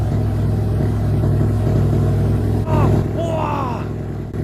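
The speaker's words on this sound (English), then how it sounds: "I didn't expect a DPF delete to make it that loud." Mercedes E63S AMG with a DPF delete running loud and close, a deep, steady engine rumble with a slight rise partway through while a person exclaims over it.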